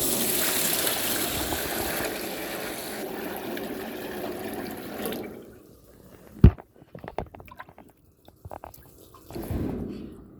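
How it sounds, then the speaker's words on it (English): Water pours steadily from a pot in a broad rushing stream for several seconds, then stops, followed by a loud clunk and scattered drips and splashes. "I'm gonna just pour this water."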